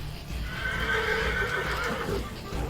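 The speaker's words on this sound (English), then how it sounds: "A massive horse snorted restlessly." A large horse snorts and whinnies restlessly in the game 1812: Heart of Winter, fairly close and loud, with a low rumbling background throughout.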